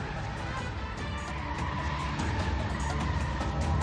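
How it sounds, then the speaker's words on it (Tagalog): An SUV speeding in reverse and circling around a gas station, a loud engine roar mixed with tire noise and scraping, continuous and close, with a faint voice underneath. "dahan-dahang umatras ang SUV hanggang sa humarurot pa atras at pumasok sa isang gasolinahan"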